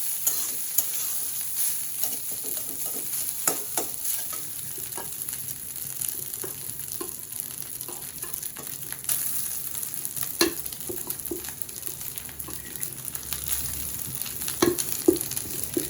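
Onions fry in a pan with a constant soft sizzle, punctuated by irregular clicks and scrapes of stirring; close but moderately quiet, no talking.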